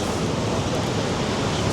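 Ocean surf breaking on the beach at Las Americas, Tenerife, a steady loud wash of rushing water with no clear individual crashes.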